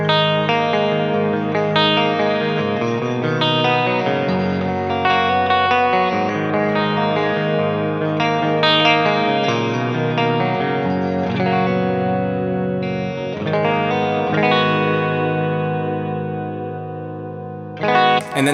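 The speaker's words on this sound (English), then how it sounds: "Now both pickups together in parallel humbucking mode," An electric guitar with both pickups together in parallel humbucking mode plays a steady stream of chords and melodic notes, shimmering with chorus and echo, loud and up close with no talking.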